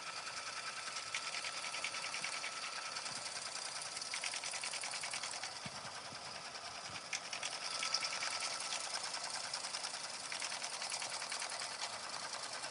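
Embroidery machine stitching a patch, a rapid, steady mechanical chatter of needle strokes running continuously at moderate level with small rhythmic variations and no voices.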